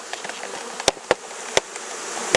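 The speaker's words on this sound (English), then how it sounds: "You see the bees there?" A honeybee swarm being moved into a top bar hive gives a steady low hum of many bees, with a few sharp bumps close to the microphone.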